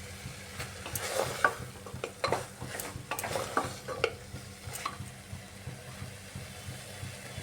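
Soybean and rajma ghugni being stir-fried with spices in a pan: steady close sizzling under repeated scraping stirs of a spoon, rhythmic and busy throughout with no voices.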